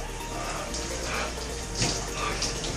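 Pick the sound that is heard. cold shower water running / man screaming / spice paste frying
cold shower water running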